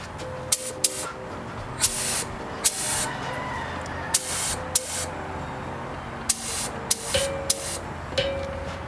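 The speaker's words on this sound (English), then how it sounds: "Let's check out my fan spray." A spray gun lays PPG silver base coat on a custom lowrider, giving a steady hiss broken by repeated short, loud bursts of spray, close up.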